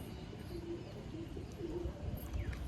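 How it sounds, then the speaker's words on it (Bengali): Madrasi pigeons at a loft give soft, low cooing calls in short repeated bursts over a steady background hum, with faint outdoor noise throughout. "পায়রাগুলো কিন্তু দেখুন।"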